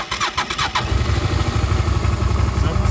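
A Suzuki SV400S motorcycle with about 49,000 km on it is started up close: a short burst of starter cranking catches into a steady, throbbing idle that carries on loudly to the end.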